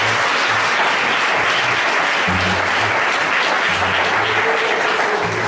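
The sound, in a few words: church congregation applause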